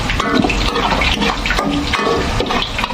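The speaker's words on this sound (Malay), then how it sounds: "Masukkan air sebab dia nak masak lama sikit, nak bagi dia betul-betul masak." Water pours steadily and loudly into a cooking pan of tilapia simmering in a sweet soy sauce, a continuous close splashing rush with no talk.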